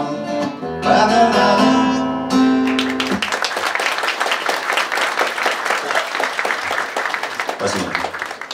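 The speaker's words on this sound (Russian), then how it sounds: "Я думаю, что ваши аплодисменты также относятся к техническому составу." Audience applause in a concert hall after a stage performance, starting as a music passage closes and building into steady, dense clapping from a large crowd that carries on for several seconds.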